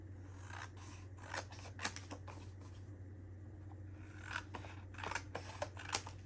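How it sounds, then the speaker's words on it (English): Scissors snip steadily through a paper bag being trimmed down on each side, a run of crisp close cuts over a low constant hum, with no talking. "So I'm gonna have to definitely cut this down. So I'm just gonna go on each side."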